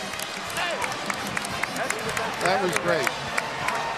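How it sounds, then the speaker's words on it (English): Arena crowd at a 2009 Syracuse versus UConn college basketball game cheering and applauding both teams after a six-overtime finish, a dense steady roar with scattered claps and a commentator talking over it. "Applauding for both teams"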